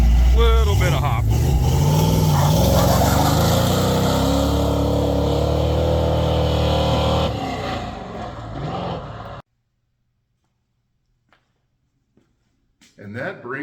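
Ford F100 truck engine revving loudly for several seconds, rising and falling in pitch with a rough exhaust note, then cutting off to near silence before faint noises return at the end.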